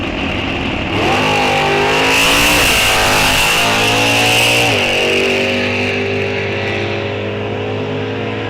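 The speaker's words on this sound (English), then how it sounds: "Mike Lund doing a nice wheel stand" An NHRA drag race car launches hard at a raceway national open event, its engine roaring loud and close as it revs up through a rising surge of power, then holds a sustained howl as it pulls away down the strip.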